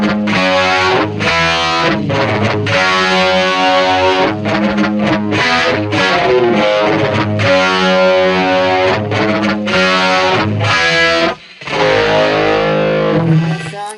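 An electric guitar runs through a BOSS eBand JS-10 set to a 1977-style flanger, giving loud, distorted, swirling riffs with chugging chords and sustained notes that play continuously with only a brief gap near the end.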